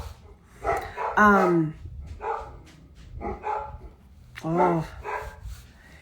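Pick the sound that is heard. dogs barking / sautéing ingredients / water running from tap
dogs barking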